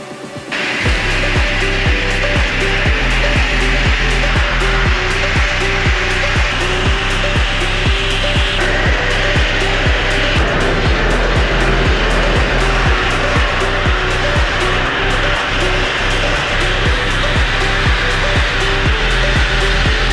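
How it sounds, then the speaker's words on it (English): A sandblaster blasting car parts for a rotary-engined car restoration, a loud, continuous rough hiss with a steady rhythmic pulsing running through the whole stretch, with no talking. "Sandblaster rips"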